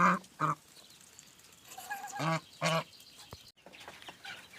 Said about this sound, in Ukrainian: Ця гусиня так і не всядеться.